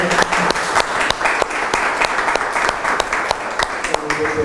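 Audience applause for a lecturer at a conference on the last battle of independence in Durango, steady overlapping clapping from a hall crowd with a voice talking over it.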